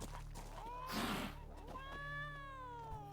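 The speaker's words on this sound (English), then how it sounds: "Ooh, cat." A cat in The Witcher 3 meows several times, drawn-out rising and falling cries against a low background hum, with a brief noisy burst partway through.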